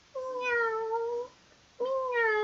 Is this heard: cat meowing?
yes